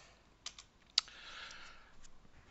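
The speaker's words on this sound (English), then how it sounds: "So I'm typing password" Typing on a computer keyboard during a VM Workstation install: a few sharp, quiet key clicks spaced unevenly, one louder stroke in the middle, heard alone in a still room.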